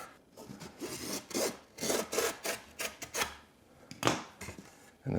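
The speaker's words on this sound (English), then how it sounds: "And what I do is I just kind of bend it over and cut this fabric right in the back of this." Utility knife slicing through fabric glued onto a panel, bent back to cut along the rear edge: a string of close, dry rasping strokes in uneven bursts, each scrape rising and fading, with a sharper louder pull near the end.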